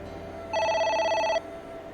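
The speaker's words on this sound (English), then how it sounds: "It's the phone." Telephone ringing in the video game AI: The Somnium Files, a single electronic trilling ring lasting under a second, clear and close over a quiet background.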